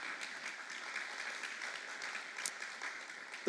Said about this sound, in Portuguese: Uma salva de palmas para a nossa professora.